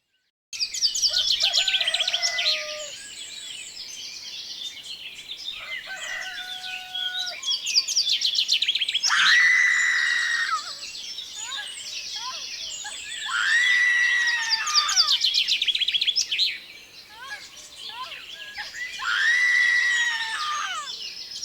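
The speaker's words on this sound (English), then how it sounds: "The song of the birds announces the first cries of the child." Birds sing in repeated bursts of bright, high chirps and whistled phrases, several songs overlapping at moderate distance in a quiet outdoor setting.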